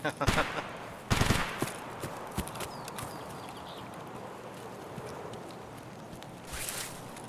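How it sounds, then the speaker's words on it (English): Scattered gunshots and bursts of distant gunfire ring out in Escape from Tarkov, with a louder volley early on, then fainter pops trailing off over a steady background. "Hear lots of shooting."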